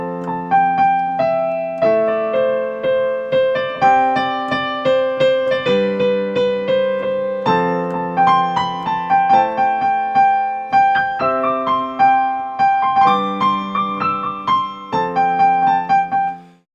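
An improvised piano melody over a chord progression, played unaccompanied with steady rhythmic chords under a wandering right-hand line, close and clear, lasting the full passage with no talking.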